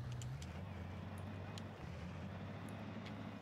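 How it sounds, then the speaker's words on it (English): A custom big V12 diesel engine in a heavy truck in BeamNG.drive rumbles low and steady throughout, quiet and fairly distant, with a few faint clicks above it. "And this engine, custom sounds, just like the other big V12 that was in the back of this truck before."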